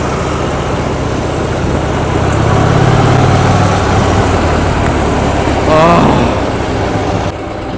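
A Harley-Davidson motorcycle engine idles close by in a loud, steady low rumble, with a brief rise in revs and a voice talking over it.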